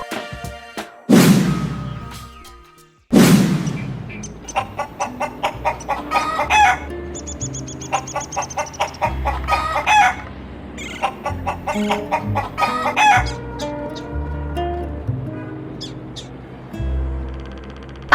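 A giant rooster in an animation gives two loud, sweeping crows, then a long run of rapid, rhythmic clucking that comes in bursts, close and prominent, with no talk.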